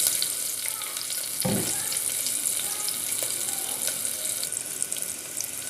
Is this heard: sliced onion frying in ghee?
yes